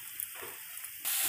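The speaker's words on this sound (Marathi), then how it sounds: "टोमॅटोचा आपल्याला कच्चापणा घालवायचा आहे, त्याच्यामुळे थोडंसं परतून घ्यायचं आपल्याला याला 5 मिनटं" Tomato puree fries with onions in a pan, a faint, crackly sizzle under a thin steady hiss, swelling louder and brighter for the final moments; close, with no one talking.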